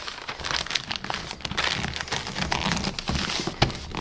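Gift wrap paper crinkles and rustles close up as it is folded and its corners are tucked in, in short irregular crackles and swishes with no talking.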